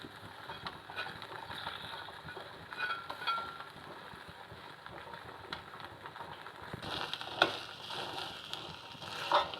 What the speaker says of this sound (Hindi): और इनको भूनेंगे थोड़ा छोलों को